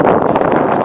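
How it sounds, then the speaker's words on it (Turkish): Strong cold wind blows outdoors, buffeting loudly and steadily against the microphone in a brief, dense roar with no voices. "Ay çok rüzgar çıktı."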